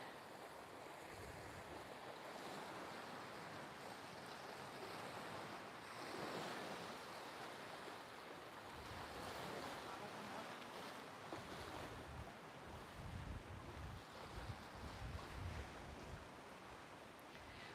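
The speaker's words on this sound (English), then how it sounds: "There's not normally so much as a ripple on the water, but the wind has picked up this afternoon." Strong wind and choppy waves on the sea at Puerto Pollensa, Mallorca, a steady roar of surf and gusts with wind buffeting the microphone, louder rough water splashing toward the end.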